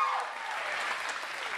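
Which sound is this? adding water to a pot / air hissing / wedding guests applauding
wedding guests applauding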